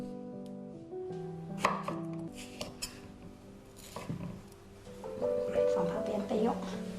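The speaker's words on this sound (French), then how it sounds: "maintenant je coupe le poivron rouge." A knife chops red bell pepper on a board with a few uneven, soft taps close by, while music and a voice carry on underneath.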